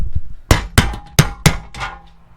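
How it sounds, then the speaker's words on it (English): Four sharp metallic hammer blows on a center punch, evenly spaced and ringing briefly, followed by a softer fifth tap, loud and close. "I'm going to use a center punch."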